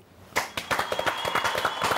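A small group claps after a round of golf, starting abruptly with a burst of quick, close hand claps that continue briskly for a couple of seconds.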